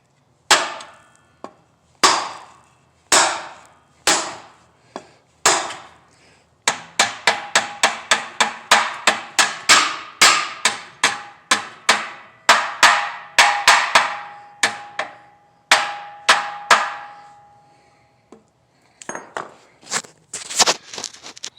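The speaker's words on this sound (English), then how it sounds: "to bang it into place" Sharp metallic hammer blows driving a rear axle seal into place on a GM 8.5 ten-bolt axle, a few spaced strikes then a fast steady run of close, loud taps before slowing again.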